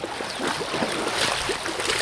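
Water in a gold-prospecting creek flows in a steady, close, broadband rush with a little bubbling texture, holding constant for about two seconds with no voices.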